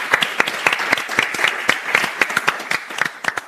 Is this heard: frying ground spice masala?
no